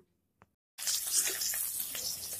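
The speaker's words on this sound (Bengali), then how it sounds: "এই তেলের মধ্যে দিয়ে দিচ্ছি সিদ্ধ করা ডিম।" Boiled eggs dropped into hot oil seasoned with salt and turmeric burst into a loud, steady sizzle after a short silence and a faint click, the crackling hiss running continuously to the end.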